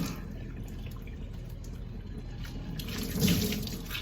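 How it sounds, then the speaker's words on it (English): Hot water runs steadily from a household tap into a sink, a continuous hissing splash with a slight surge near the end, close by and uninterrupted by speech. "The water coming out of the tap is hot enough."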